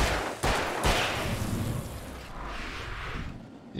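Gunfire in the video game Alan Wake: a couple of sharp, heavy shots near the start, followed by a rumbling, noisy tail that fades unevenly.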